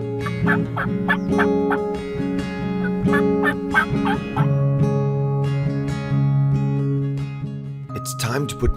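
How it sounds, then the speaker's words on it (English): Wild turkey gobbling in Tennessee, with repeated sharp rattling gobbles over a strong sustained tonal hum, closing in a louder burst near the end. "And he'll be gobbling, looking for that hen."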